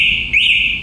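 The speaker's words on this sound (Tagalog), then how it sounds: "Safety features like alarm. Pag ginalaw yung unit, Yun yung tumutunog talaga." Loud electronic anti-theft alarm on a foldable e-scooter, a steady piercing high tone holding for the whole moment with a brief warble in the middle, close and alone.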